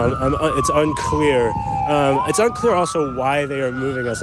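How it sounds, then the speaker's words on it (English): Wailing emergency vehicle sirens near a crash scene on a Philadelphia boulevard, rising and falling continuously and fairly close, heard under a reporter's steady speech. "You can hear the sirens behind me."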